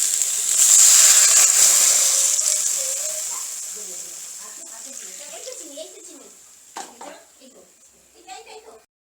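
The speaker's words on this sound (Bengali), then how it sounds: "এবার এতে জল ঢেলে দেবো।" Water poured into a hot pan of cooking koi fish and vegetable stems sets off a loud, hissing sizzle that slowly fades as a person begins talking.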